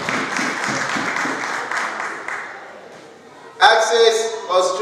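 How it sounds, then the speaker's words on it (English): A crowd at a Yoruba Day 2018 celebration claps at moderate volume with some talk mixed in. The applause fades to near quiet partway through, then a sudden loud burst of clapping and cheering follows. "Can we please clap for Luna Multi Products?"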